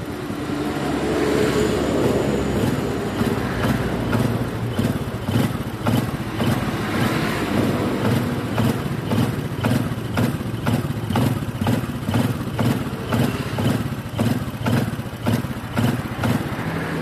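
A Honda Win motorcycle idles nearby for a long stretch, a steady chugging pulse with regular sharp ticks riding on top and only slight swells in loudness.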